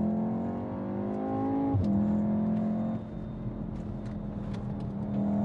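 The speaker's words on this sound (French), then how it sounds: "fais une petite accélération. Vas-y. J'accélère." A Volkswagen Golf R engine (Golf 8R or Golf 7R) revs up steadily with a rising harmonic whine, then settles into a sustained higher drone; close and fairly loud, no voices.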